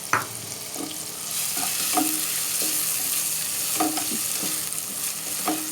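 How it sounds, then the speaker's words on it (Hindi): Onions browning in half a cup of oil in a pot, a continuous close sizzle broken by repeated scraping stirs of a spoon at a steady pace, with no talking. "ये मैंने ऑयल शामिल कर दिया है आधा कप, और ये हम प्याज इसमें ब्राउन करेंगे, लाइट ब्राउन।"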